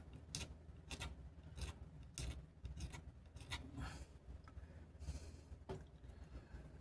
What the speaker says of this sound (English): we're going to take our razor blade and scrape this off